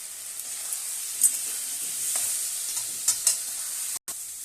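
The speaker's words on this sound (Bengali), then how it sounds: "এবার আমি অল্প জল দিয়ে একটু কষিয়ে নিলাম" Ground coriander and cumin cook in oil with a little water in a pan, giving a constant bright sizzling hiss with a few stirring scrapes and a brief break near the end.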